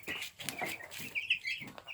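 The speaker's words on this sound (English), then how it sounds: "Poor little chickens. Scared of us." Chickens huddled in the corner of a farm coop give short, close clucks and squawks in a quick, uneven series, with scattered high chirps over a soft background.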